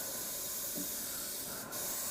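An airbrush sprays thinned skin-tone paint for painting a small skull, giving a continuous steady hiss throughout with one brief burst near the end.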